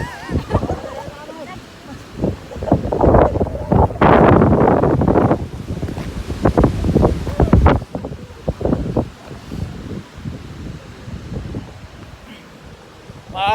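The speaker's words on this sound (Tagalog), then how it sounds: "Maaraw siya pero sobrang lakas ng hangin." Strong gusty wind buffets the microphone on the sunny Solsona-Apayao mountain road, roaring in loud surges then easing, while people talk intermittently over it.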